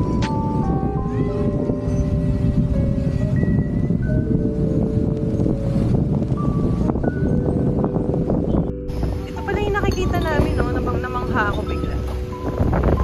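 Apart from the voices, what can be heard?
wind blowing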